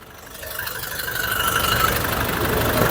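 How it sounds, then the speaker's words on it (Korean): A SsangYong Rexton Sports Khan pickup truck's engine idles close by with the hood open, a steady rumbling drone that grows slightly louder and holds without talking. "엔진 사운드 바로 체크할게요"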